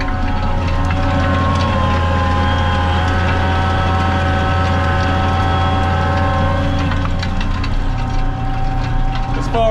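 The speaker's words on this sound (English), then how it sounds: "So here we go, and here's the plough." A tractor ploughs a field before pumpkin planting, its engine droning loud and steady throughout with a constant mechanical rumble and whine, heard up close with no break.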